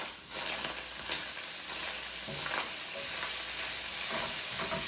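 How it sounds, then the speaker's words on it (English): Ground taco meat sizzling in a pan with a steady frying hiss, broken by occasional scraping as it is stirred. "And I better mix up my taco meat here."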